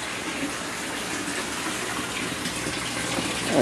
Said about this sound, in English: It's pumping water up through the bottom of each one of these beds.